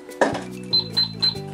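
A toy cash register rings with a sharp clunk followed by three bright, evenly spaced ding chimes, close and clear.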